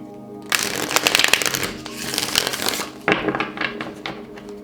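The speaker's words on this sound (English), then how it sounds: "I think I have to shuffle the cards" Tarot cards being shuffled by hand in a run of crisp riffling and flapping bursts, close and fairly loud, with a short pause before a second round of shuffling.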